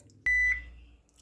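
A baking timer gives a single sharp electronic beep as it ends, clear and close in an otherwise quiet kitchen, followed by a faint tail of room noise.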